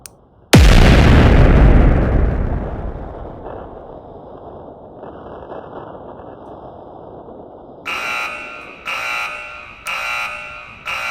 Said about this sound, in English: First time hearing a GPWS alarm.